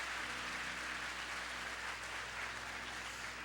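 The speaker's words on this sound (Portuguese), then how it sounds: "Dá uma salva de palmas para Jesus." Church congregation giving a round of applause during a sermon, continuous even clapping from many people over a low steady hum.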